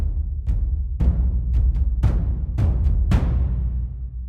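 Deep, booming taiko drums and toms struck in an uneven pattern of heavy hits, with low rumble ringing between strokes and sharper accents layered on top.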